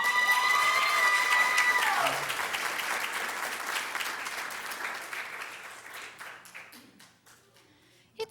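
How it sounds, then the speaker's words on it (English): An audience at an elementary school essay contest ceremony applauds and cheers loudly, the clapping fading gradually over several seconds with a few shouts early on. "It's so great to hear the cheering sections."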